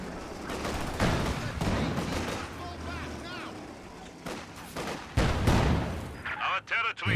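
Gunfire crackles in a competitive shooter match, repeated sharp shots and bursts over a dense game soundscape, with a louder boom near the end and a commentator talking throughout.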